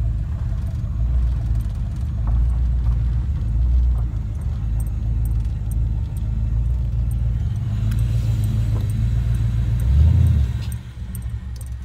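A 1982 Pontiac Trans Am engine idling nearby, a steady low rumble that holds evenly and dips briefly near the end, with faint mechanical rattles over it.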